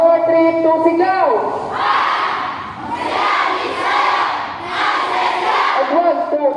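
Crowd at the Halad Festival gives a loud collective shout on cue, broad roaring bursts that swell and fade several times amid music and voices.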